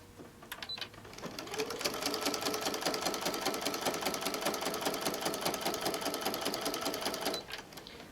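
A sewing machine with a walking foot stitches a quilt strip for a tote bag, starting up after a few clicks and running in one steady, even, close whir for several seconds before stopping.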